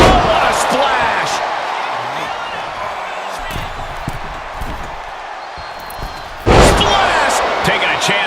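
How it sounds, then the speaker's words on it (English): A wrestler's middle-rope splash in WWE 2K25 lands as a loud thud around the 6.5-second mark. It follows a few lighter impacts and runs under steady arena crowd noise and commentary. "From the middle rope. Oh, what a splash."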